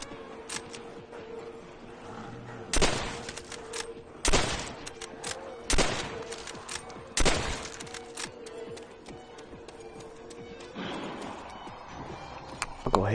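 Gunfire in Call of Duty World at War Zombies: several loud, sharp shots spaced a second or so apart over a quiet background hum, followed by a softer rattle near the end.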